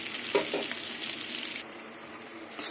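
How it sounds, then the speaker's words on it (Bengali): Eggplant pieces fry in hot oil in a home kitchen, giving a soft steady sizzle with a few light clinks that eases slightly partway through. "বেগুনটাকে আমি লাল লাল করে ভেজে নেব"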